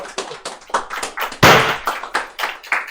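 A small group claps in ragged, rhythmic applause to celebrate a YouTube silver button presentation, the claps close and loud, with one sharp louder burst midway.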